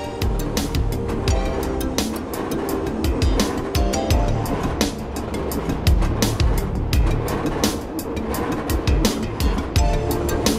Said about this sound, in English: From the unhurried train, there are marvelous views of the landscape